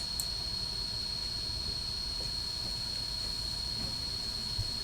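A train runs in the 3D Train Studio simulation game, a steady, even rolling drone with a constant high whine, uniform and unbroken with no talking.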